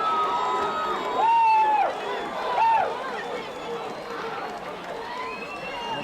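A high school football playoff crowd in 1997, Oak Creek versus Beloit Memorial, cheers from a distance in swelling roars and whistles under continuous play-by-play commentary.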